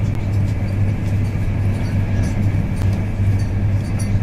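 An East Coast passenger train heading north from King's Cross runs at speed, heard from inside as a loud steady low rumble and hum with faint clatter over several seconds.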